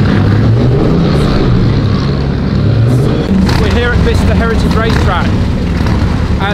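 Cars circling the Bicester Heritage racetrack give a loud, steady engine roar and road rumble throughout, with a person speaking over it in the second half.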